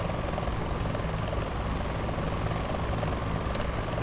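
A Bell 412 helicopter flying in X-Plane 11 on a ferry flight from Oregon to California, its steady rotor and engine drone filling the cockpit evenly and unbroken throughout.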